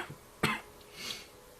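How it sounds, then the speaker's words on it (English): A single sharp cough, close to the mic during a gaming livestream, followed by faint background noise. Otherwise quiet, with no talking. "Don't cough."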